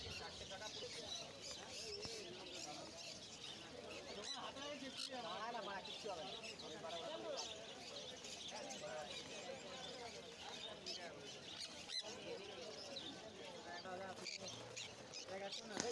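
Sun conures and other exotic birds calling at Galiff Street pet market in Kolkata, a dense layer of chirps and squawks from many caged birds, with a person talking over them throughout.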